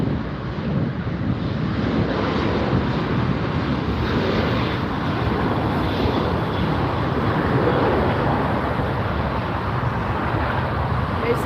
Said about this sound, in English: There's the Iberia taxiing up.